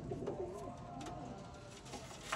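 Green-necked Sialkoti pigeons coo softly at close range in a short, low, throaty run of calls against faint background noise.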